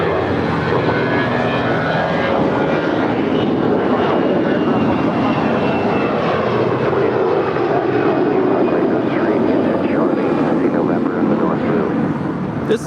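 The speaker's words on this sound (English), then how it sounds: "This is Alaska Airlines Flight 1108 departing to Washington Dulles. It's an Airbus A320." An Alaska Airlines Airbus A320 departing LAX for Washington Dulles: a loud, steady jet engine roar fills the whole stretch, with a slowly shifting tone as the aircraft accelerates away.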